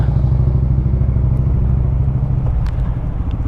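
A Honda Monkey motorcycle idles and rolls in to park at a dealership lot, its steady low engine chug loud and close, with a few light clanks near the end.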